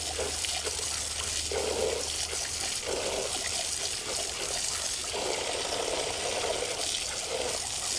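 Fresh water from a hose streams and splashes over dogs being rinsed outdoors, a steady close trickling wash with a few louder gushes, and no voices.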